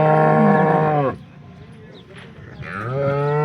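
Dairy cows at a cattle sale in Vadnagar give two loud, drawn-out moos nearby, the first lasting about a second and the second rising in after a brief lull.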